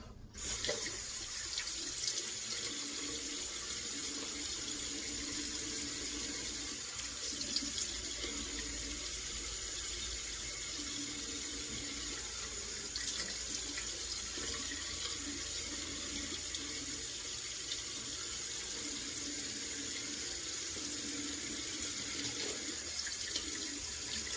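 A tap runs steadily for a rinse, a continuous close hiss of water pouring into a sink that holds even throughout, with no voices.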